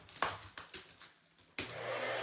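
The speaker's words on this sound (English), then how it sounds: "I turned on my heat gun" A heat gun switches on with a steady, broadband rush of blowing air after a few short clicks and handling noises, close and fairly loud, with no talking.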